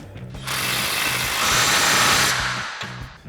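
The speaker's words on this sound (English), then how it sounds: "Now we'll tighten these down with our 19mm socket on our impact and a 19mm wrench." An impact wrench with a 19mm socket drives suspension bolts on a Toyota Tacoma during a Rough Country 3.5-inch lift install, one sustained loud burst of hammering rattle ending in a short final hit.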